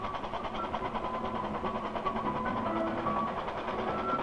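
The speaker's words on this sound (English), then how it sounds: "Even the man who has a radio gadget to start or stop his model railroad." A radio-controlled model railroad train runs steadily, a continuous rolling rumble with faint rhythmic clicking of wheels on track, heard alone without speech.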